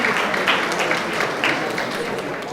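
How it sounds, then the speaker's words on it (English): Gala audience breaks into a warm round of applause, many hands clapping densely and evenly at moderate loudness, with some voices mixed in. "please give yourselves a round of applause for being so generous"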